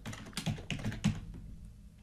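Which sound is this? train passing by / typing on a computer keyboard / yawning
typing on a computer keyboard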